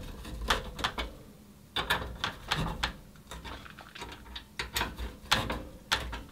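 A screw is driven into a Thermaltake The Tower 300 PC case, giving close, dry ratcheting clicks and metallic ticks in irregular bursts with short pauses, no voices.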